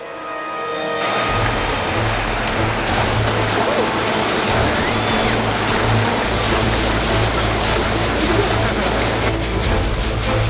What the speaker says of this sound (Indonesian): Di situ arusnya udah mulai deras.